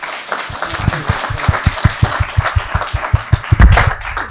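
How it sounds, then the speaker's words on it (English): An audience at a Conservation Council of South Australia sustainable development event claps for a panel, with distinct, evenly spaced hand claps close by and a brief louder burst near the end. "I want everybody to give this panel a big round of applause."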